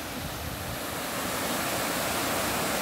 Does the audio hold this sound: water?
yes